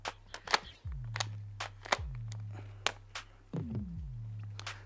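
A modified gas magazine is tapped into a Tokyo Marui MWS airsoft gun in a series of sharp, close knocks and clicks, some followed by a short ringing resonance, spaced irregularly with brief pauses between.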